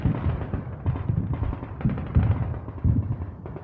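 Gunfire in the zombie video game The Falling Sun, a muffled, bass-heavy run of repeated shots and thuds in irregular bursts, with no talking.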